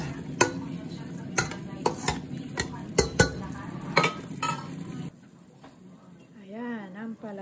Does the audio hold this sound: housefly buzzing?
no